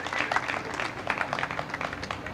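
Brief, scattered clapping from a modest audience at a brand launch event for a town, light and close with no cheering.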